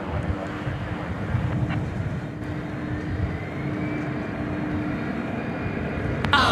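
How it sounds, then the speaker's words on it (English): Low, steady jet rumble of an older UPS McDonnell Douglas MD-11 freighter at DFW Airport at night, distant and continuous with a faint rising whine. "This is among the older MD-11s that remain in the UPS fleet."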